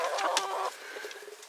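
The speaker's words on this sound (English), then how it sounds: "That looks like a Rhode Island red rooster right there." A Rhode Island Red rooster and hens cluck nearby in short, close calls, with a louder burst of clucking at the start that gives way to softer, scattered clucks.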